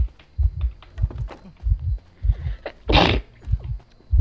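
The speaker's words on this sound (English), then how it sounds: "I have to sneeze" A single sharp, breathy sneeze bursts out about three seconds in, loud and close, during an Identity V gaming session, set against repeated low thumping pulses.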